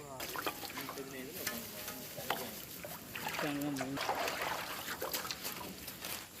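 A spoon stirs a watermelon fruit jelly mixture made with agar in a village kitchen, giving steady scraping and sloshing strokes while people talk over it throughout.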